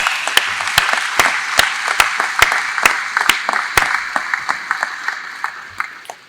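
Sparse, uneven clapping comes from the audience at a technical institute graduation ceremony. Separate sharp claps stand out against a steady background of applause that slowly thins out.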